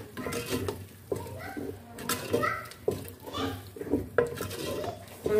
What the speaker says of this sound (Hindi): और इसको हम अच्छे से मिक्स कर लेंगे।